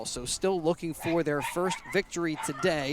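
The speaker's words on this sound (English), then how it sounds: "you might hear some barking in the background" Dogs bark and yip in the background at a high school baseball game's Bark at the Park event, the Bensalem Owls visiting the Pennsbury Falcons, heard under continuous commentator talk.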